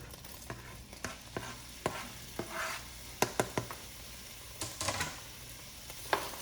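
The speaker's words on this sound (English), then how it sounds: "Y'all hear that sizzle?" Cut-up chicken sizzles steadily in a hot pan for white chicken chili, with sharp clicks and scrapes from stirring scattered throughout; no talking.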